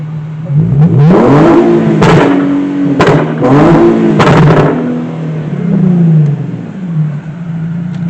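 A car with a B58 engine revs hard and close, its pitch climbing and dropping in several surges with sharp bangs between them before it settles to a lower hum.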